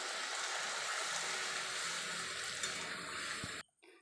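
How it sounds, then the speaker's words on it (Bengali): Water poured into a pan of browned, cooked meat for green pea ghugni, a steady rushing splash that stops abruptly near the end. "পরিমাণ মতন জল দেবো।"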